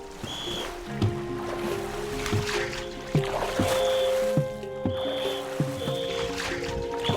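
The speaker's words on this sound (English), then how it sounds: "The boat is making its way down the river." A motorboat chugs steadily down a river, its engine droning with splashing and lapping waves, and faint tonal beeps recurring in the background.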